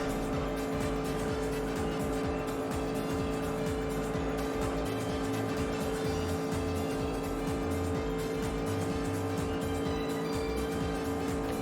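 Glowing pink Mazda MX-5 in the Juiced racing video game, a steady engine drone with tonal hum and revving under continuous game sound, constant in loudness throughout.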